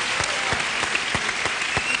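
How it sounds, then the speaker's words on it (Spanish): Studio audience applause on a Spanish-language television variety show, a steady dense clapping that runs for the full two seconds at an even, fairly loud level, with no voices over it. "Y un aplauso."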